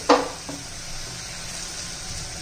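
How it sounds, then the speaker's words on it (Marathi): Spices for masale bhat sauté in a pan, giving a steady soft sizzle after a brief clatter at the start, close and alone with no talking. "आता मसाले पण 1-2 मिनिटं चांगले परतून घेऊ"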